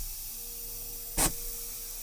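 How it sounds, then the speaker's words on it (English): A single short, sharp burst of hissing air as a truck's trailer and tractor air brakes release, rising out of a quiet idling background before fading. "release the trailer and tractor brake"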